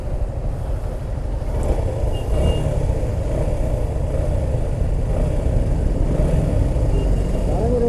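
A motorcycle engine running after a battery replacement, a steady close rumble holding at a constant level throughout without a clear rev surge.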